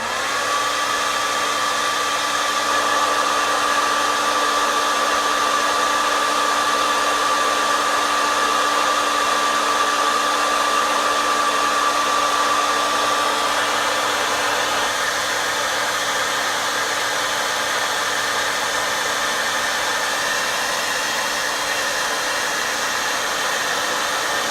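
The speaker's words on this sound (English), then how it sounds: "Alright, so now I'm back with the blow dryer," A blow dryer runs continuously at close range, a loud steady whooshing whine with a constant hum and no change in pitch or level, with no talking.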